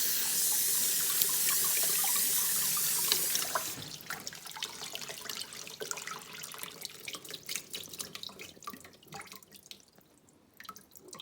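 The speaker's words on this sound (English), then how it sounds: "Just give it a good rinse." A tap runs loudly for a few seconds while fish for salmon or mackerel patties is rinsed, then cuts off, leaving irregular drips and small splashes into a kitchen sink.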